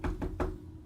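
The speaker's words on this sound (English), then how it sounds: "Why you knock so loud?" Three loud knocks on a door in quick succession, close and heavy, each a dull thump with a short ring, the last slightly stronger before fading into quiet.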